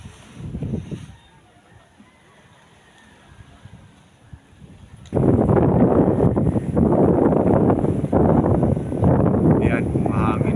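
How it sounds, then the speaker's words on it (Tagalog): Calm quiet at first, then a sudden strong gust of wind roars into the microphone and keeps buffeting loudly in blustery surges. "mahangin na naman"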